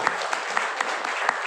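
Seminar audience claps briefly in a short, lively burst of many hands with a few sharper claps standing out, lasting just over a second.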